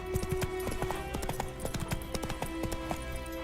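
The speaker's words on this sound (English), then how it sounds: "Whoa there, Roach" A horse's hooves clip-clop in a steady, close walking rhythm in The Witcher 3, each footfall distinct over a soft game background.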